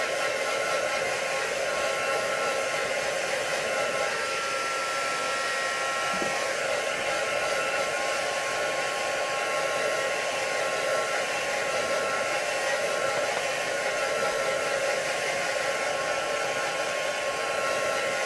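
A hair dryer blows steadily on the back of a sheet of stencilled paper. Its loud, even whoosh runs without a break, and no one speaks.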